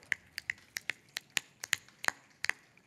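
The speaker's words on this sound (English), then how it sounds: "Somebody give me some finger snap." A dozen or so sharp finger snaps from several audience members at a live spoken-word event, scattered and uneven in rhythm, fairly quiet with no talking.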